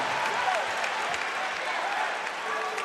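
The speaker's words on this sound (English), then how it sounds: "This has been a raucous crowd with a lot of Duke blue in the building" A basketball arena crowd at a Duke vs Notre Dame game in South Bend claps and cheers loudly and steadily throughout, with a faint voice over the noise.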